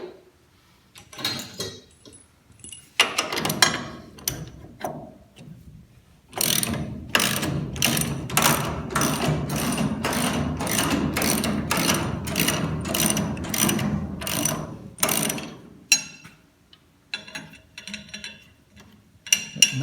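A ratchet works a nylock nut loose on a truck, with close, crisp clicking in rapid bursts and a long continuous run of ratcheting in the middle.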